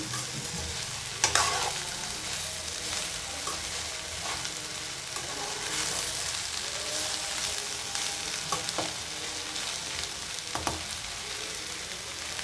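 Sliced okra (ladies finger) fries in a pan with a steady, close sizzle, broken by a few scraping stirs and clicks.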